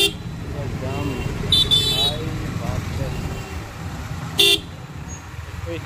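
Horns toot repeatedly in short bursts amid a rumbling Indian road traffic jam, with motorcycle and car engines running close by and people talking throughout.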